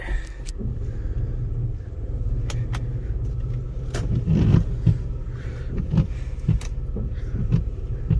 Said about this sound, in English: that little noise, if you guys hear it, it's normally my car when it's cold